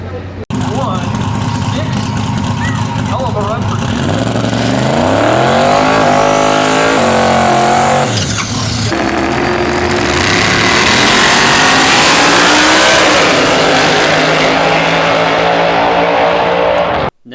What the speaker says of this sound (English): here we have the fastest stock emergency hatch release Mustang in the country